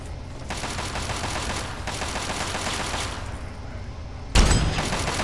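Gunshots in Fallout 3 ring out as a sustained burst of rapid-fire shooting, loud and continuous, ending in a heavy thump near the end.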